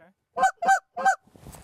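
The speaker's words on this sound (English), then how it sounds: "That goose is saying stay away or being real aggressive." Three loud, close goose honks in quick succession in an open field during a hunt, followed by a rustling noise and no talk.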